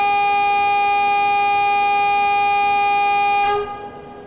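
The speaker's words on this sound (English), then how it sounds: "That will be the horn. That's got a decent horn." Train horn from a locomotive in Train Simulator Classic on a route to Lancaster, a loud steady two-tone blast held for about three and a half seconds before cutting off abruptly, leaving a fading tail.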